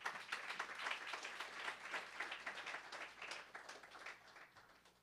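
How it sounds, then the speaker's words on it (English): Congregation applause in a church service, a faint, dense patter of many hands clapping that swells at first and then slowly fades, with no talk. "Let's give the Lord a round of applause."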